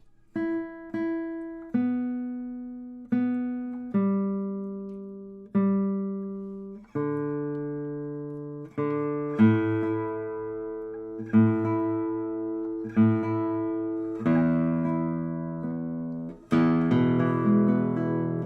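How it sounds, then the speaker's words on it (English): A lone guitar plucks single notes and short chords one at a time, each ringing out and fading, the pitch shifting slightly between plucks as strings are adjusted. "Sorry, it's out of tune. Let me tune this thing up."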